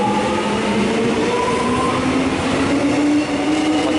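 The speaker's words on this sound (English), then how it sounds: "33am is leaving, and it's now departing." A Melbourne suburban train pulls out of Epping station with a steady loud rumble and rising motor whine that holds throughout, the wheels rolling close by.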